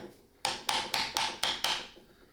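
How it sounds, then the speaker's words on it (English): A small ball peen hammer taps masking tape onto a motorcycle engine: six quick, evenly spaced light metallic taps, close and clear. "if you take a small ball peen hammer"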